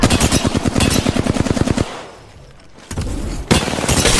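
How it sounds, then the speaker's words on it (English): Rapid automatic gunfire in the video game Apex Legends rattles loud and close in a dense burst, pauses briefly, then resumes with more sustained shooting. "They're shooting at me."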